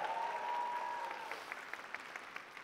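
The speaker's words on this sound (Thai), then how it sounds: "ปรบมือให้กับผู้นำทุกท่านดังๆเลย" Audience applause for platinum leaders at a southern Thai wellbeing business gathering, a steady, fairly faint wash of clapping with a tone briefly ringing over it early on, then sharper individual claps standing out.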